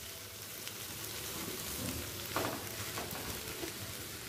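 Potatoes fry in a pan for a paneer dish, giving a steady, soft crackling hiss with faint scattered pops throughout, close and fairly quiet, with no talk.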